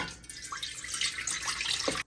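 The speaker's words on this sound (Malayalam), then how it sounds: "അതിലേക്ക് ഒന്നര കപ്പ് വെള്ളം കൂടി ഒഴിച്ചു കൊടുക്കുവാണ് കേട്ടോ" Water is poured into a pot while cooking pal kozhukkatta, a short splashing, gurgling stream that runs steadily for about two seconds at close range.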